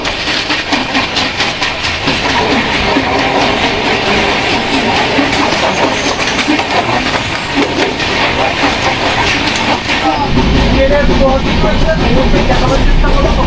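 A local train runs past on an Indian railway line, a steady loud rumble of wheels and carriages with faint clickety-clack, continuous through the whole stretch with brief voices mixed in.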